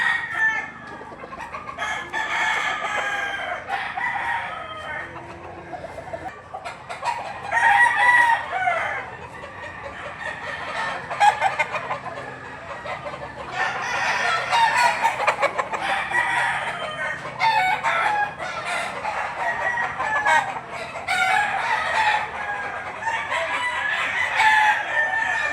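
Gilmore hatch roosters at a livestock auction market in Lipa crow repeatedly and cluck, with several birds overlapping in a steady, busy barnyard din that continues throughout without talk.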